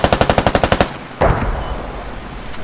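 A Marines M240G machine gun in a video game fires a rapid, loud burst of about ten evenly spaced shots. Then comes a sharp impact and a fading rumble.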